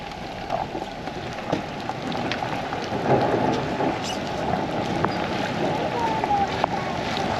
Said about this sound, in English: Thundered and rained like crazy.